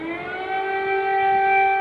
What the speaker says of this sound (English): Air raid sirens becoming a part of everyday life in the Ukrainian capital of Kyiv.